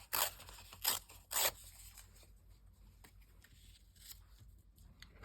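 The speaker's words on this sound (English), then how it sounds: "so we'll just tear a bit off of this" Paper being torn by hand, with three short, sharp ripping bursts near the start followed by quieter handling rustles and a faint fourth rip, close up and without speech.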